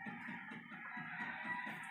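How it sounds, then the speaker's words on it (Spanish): A sustained, harmonic crow from a pedigree rooster fills about two seconds at steady loudness, with no other sounds around it. "Gallo muy bien hecho y de buen pedigrí."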